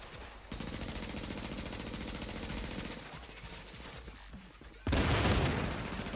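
Rapid automatic gunfire from a video game shooter rattles in long sustained bursts, dense and loud, stopping briefly before a heavier close burst resumes.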